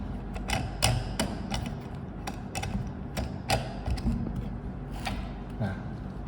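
An iron core is fitted and tightened on a simple transformer, giving repeated metallic clicks and ratcheting ticks at an uneven pace, close and fairly loud over a dense rumbling background.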